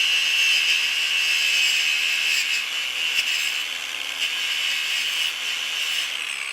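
A power tool grinds and polishes a grooved metal part in a smithy, a steady high abrasive whir running close and fairly loud without a break for the whole stretch.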